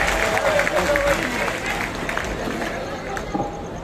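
Mushaira audience at a dargah gathering applauding to welcome poet Nadeem Farrukh, a dense continuous wash of clapping mixed with crowd chatter, steady and moderately loud throughout.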